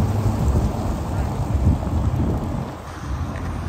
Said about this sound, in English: Just because it's raining, I'm not going to complain.